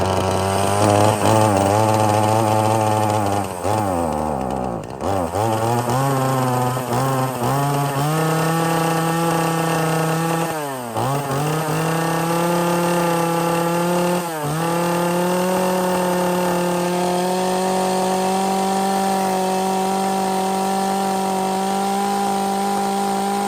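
A Troy-Bilt TB4620C XP chainsaw engine running loud and close, idling and revving up and down in repeated surges with brief dips in pitch.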